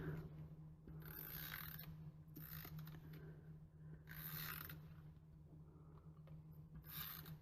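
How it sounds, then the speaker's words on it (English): An adhesive tape runner is drawn across a pre-scored Christmas card in several ratcheting bursts, each a close, quiet, raspy clicking pull separated by short pauses over a low hum. "We can add our adhesive, ribbit, ribbit, ribbit"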